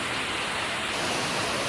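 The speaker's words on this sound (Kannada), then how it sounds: "ಮಳೆ ಬರ್ತಾ ಐತೆ" Rain falling, a dense, steady wash of hiss filling the whole clip without a break, loud and close with no voices.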